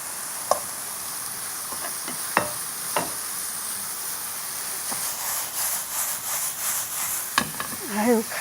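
Fish cake being stir-fried with red chili pepper, garlic scapes and shrimp in a pan, giving a soft steady sizzle with scraping stir strokes and a few sharp utensil knocks, with brief talk in places.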